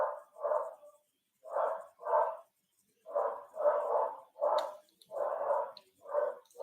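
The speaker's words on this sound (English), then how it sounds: "Peanut's barking like a crazy dog" A dog named Peanut barks in steady paired bursts from downstairs, about ten muffled, mid-pitched woofs in a fairly even rhythm, slightly distant and with no talking over them.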